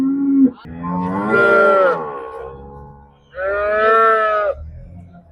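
Two loud, drawn-out moos from dairy cows close by, separated by a short pause, with faint background rumble.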